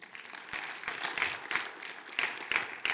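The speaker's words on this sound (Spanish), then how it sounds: "¿Alguien le da un aplauso al Señor?" A church congregation applauds in a steady, moderately loud patter of many hands clapping, lasting a few seconds with no talking.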